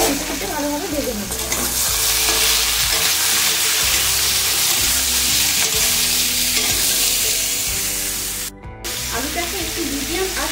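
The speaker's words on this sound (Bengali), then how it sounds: "1 চামচ লবণ আর দিয়ে দেব 1 চামচ হলুদ গুঁড়ো দিয়ে আমরা আলুটাকে ভালোভাবে লাল লাল করে একটু ভালোভাবে ভেজে নেব।" Potatoes frying in a pan with salt and turmeric, a loud dense sizzle with scraping stir strokes, a brief dip midway before the frying noise resumes.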